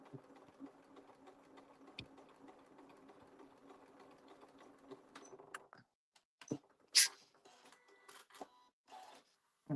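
A sewing machine stitches a gift card bag in a steady, close whirring run for about six seconds, then stops, leaving sparse clicks and fabric handling noises.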